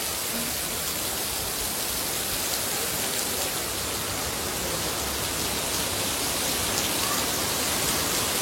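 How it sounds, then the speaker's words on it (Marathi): Heavy rain pours down in a dense, unbroken roar, loud and steady throughout with no voices. "बघू शकता पावसाने जोर घेतली"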